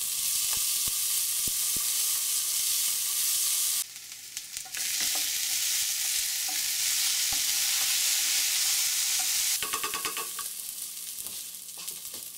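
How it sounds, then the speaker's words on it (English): Chopped potatoes fry loudly in a pan of hot oil for a Bengali chital fish dumpling curry, a steady close sizzle broken by bursts of stirring and scraping, with no voices. "Add the chopped potatoes and fry them until they start to turn slightly brown"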